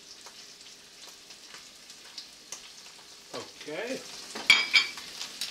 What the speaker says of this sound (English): Now I'm going to put in the garlic.